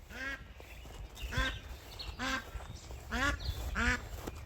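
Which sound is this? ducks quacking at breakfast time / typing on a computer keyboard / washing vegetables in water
ducks quacking at breakfast time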